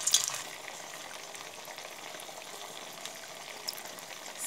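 Sabudana pakodi dough fries in hot oil over a high flame, giving a close, continuous bubbling sizzle with a few louder spits at the start and end.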